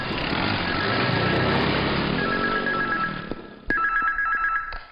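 A telephone rings in a dubbed South Indian action film, its repeated electronic trills cutting through a loud, busy background, pausing briefly and then ringing again more sharply.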